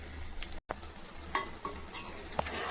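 Ginger garlic pickle frying in oil in a home kitchen, stirred with a spoon: a steady low sizzle with a few scattered scraping taps of the utensil against the pan, close and fairly quiet.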